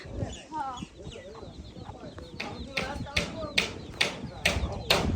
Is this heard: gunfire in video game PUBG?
no